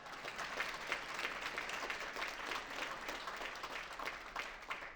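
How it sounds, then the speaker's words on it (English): Soft, steady applause from diners at a celebration dinner, a continuous patter of many hands heard from a distance at low volume, with no talking over it. "That deserves applause."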